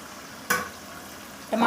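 Frying in a pan while making a desi-style curry: a quiet background sizzle broken by two brief louder bursts of stirring, close by.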